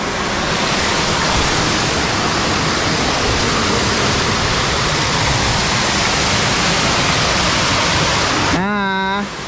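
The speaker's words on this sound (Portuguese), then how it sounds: "Estou na cascata." A waterfall roars loud and close as a constant broadband rush of falling water, unbroken for several seconds before a brief high tone cuts in at the very end.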